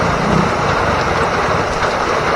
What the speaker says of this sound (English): Definitely a downpour coming down.